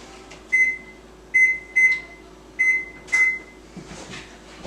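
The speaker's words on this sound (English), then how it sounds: "First, we're gonna preheat the oven to 350 degrees." An oven being set to preheat to 350 degrees: five electronic control-panel beeps at irregular intervals, each a short pure tone, with a low appliance hum underneath and no talking.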